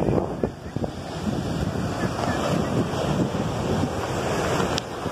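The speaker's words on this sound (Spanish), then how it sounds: "Disfruten ahí, aunque sea un poco de las olas del mar." Sea waves washing onto the beach at La Ceiba, Atlántida, Honduras, a steady broad surf roar mixed with wind buffeting the microphone, continuous and fairly close.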